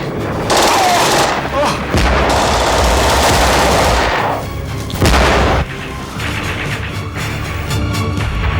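Loud, sustained bursts of automatic gunfire with heavy booms, rattling almost continuously throughout.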